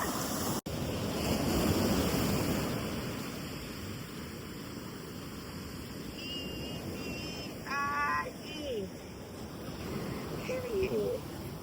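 Surf rolling in on an Assateague Island beach as the tide rises, a steady roar of breaking waves with gusts of wind on the microphone and a person talking over it.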